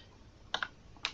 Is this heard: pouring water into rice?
no